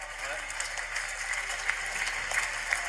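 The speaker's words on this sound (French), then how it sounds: "Je voudrais qu'on applaudisse quand même Paul, qui a fait un parcours extraordinaire." Studio audience on a French midday TV quiz show applauds an eliminated contestant, a soft continuous patter of many hands sitting under a talking voice throughout.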